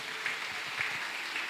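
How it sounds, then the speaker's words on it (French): Church congregation applause, a soft, even patter of many hands clapping, sounding a bit distant and quiet in a brief steady burst. "Est-ce que l'église a applaudi s'il vous plaît pour nous?"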